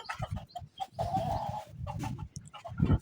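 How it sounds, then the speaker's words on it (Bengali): Fayoumi hens and roosters on a small farm cluck in short, quiet bursts, with one stretch of louder, drawn-out calling in the middle. "এই যে আমার ফাউমি মুরগি দেখছেন"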